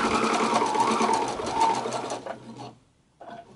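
A sewing machine stitches fabric for a messenger bag, running steadily and close for about two seconds before slowing to a stop, followed by a short restart.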